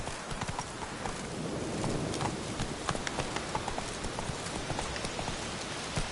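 Roach, a horse in The Witcher 3, gallops with steady rapid clip-clop hoofbeats over a continuous hiss like rain, the game's sound carrying on without pause.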